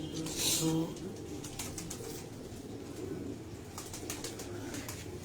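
Sindhi pigeons released from a rooftop give a burst of wing flapping and cooing at the start, then rustle and flutter more faintly amid outdoor background noise and voices.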